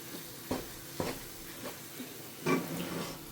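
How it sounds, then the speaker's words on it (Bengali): Chana dal halwa cooked in ghee is stirred steadily in a pan, giving a few soft scraping knocks at irregular intervals over a faint background, with no talking. "অনবরত নাড়তে থাকতে হবে, চোখ সরানো যাবে না এখান থেকে।"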